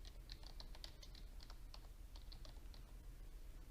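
A document title being typed on a computer keyboard: a quick, steady stream of soft key taps, fairly close, over a low background hum, with no voices.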